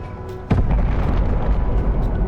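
Grenade explosion in the real-time strategy game Wartorn, a single sudden loud boom that gives way to a sustained rumbling roar and crackling debris.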